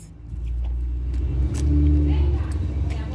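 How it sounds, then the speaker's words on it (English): A large bus rumbles past outdoors with a steady low engine drone that swells to a peak mid-pass and then holds, heard fairly close and without talk. "Oh, is that Alan's bus?"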